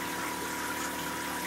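Aquaponic drum filter pushing water through its sieve, giving a steady, continuous rush of pumped water with a low mechanical hum, close and unchanging throughout.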